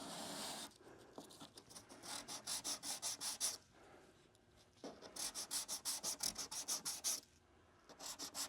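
Body filler on car bodywork is sanded by hand in quick rhythmic bursts of back-and-forth rasping strokes, pausing briefly between sets, close and fairly quiet with no talking.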